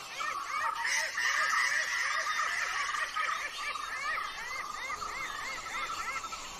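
A Javan hawk-eagle gives shrill, high calls again and again, short rising-falling notes over a busy, steady chorus of other birds.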